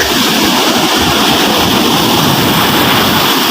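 Rough sea waves pounding around a small wooden outrigger boat that nearly capsizes, a dense, continuous roar of churning water and spray with no clear pauses.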